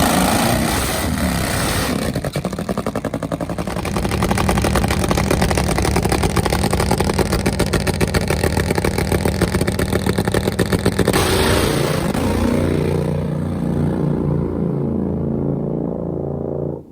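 A nitro-fuelled Harley drag-racing motorcycle roars loudly at close range, a sustained harsh engine howl through the run that tapers off as the throttle is released near the end.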